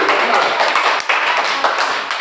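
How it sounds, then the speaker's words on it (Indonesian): A classroom of students applauds a student group, a steady dense clatter of hand claps that stays fairly loud and even throughout. "Tepuk tangan untuk kelompok 1 dulu."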